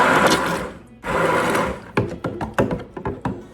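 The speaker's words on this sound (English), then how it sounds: "I'm going to just hit for the second blender just for like a second." A small motorized blender mixing goat milk soap whirs loudly in two bursts, then sputters in short pulses as it stops and starts.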